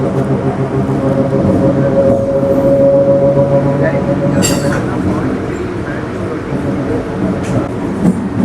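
A MEMU train pulls into Villupuram station with a loud, steady rolling rumble and a faint wheel squeal, and a voice talks briefly over the passing cars.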